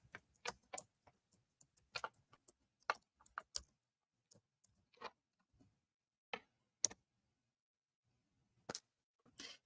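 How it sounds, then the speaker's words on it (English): Keyboard typing during a live online sale, scattered quick key clicks in short irregular bursts with long pauses, faint and close. "So as I'm typing this in, fair warning."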